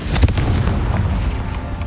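A fiery Confringo spell blast in Hogwarts Legacy, a sharp booming burst near the start that rolls into a low, rumbling fire roar across the rest of the moment.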